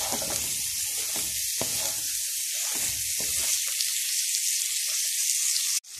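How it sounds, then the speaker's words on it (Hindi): Chicken frying in a pan for chicken fried rice, a steady broad hiss of sizzling oil close up, continuous for several seconds and ending with a brief dropout, no voices. "चिकन को हम अच्छी तरह से फ्राई कर लेंगे।"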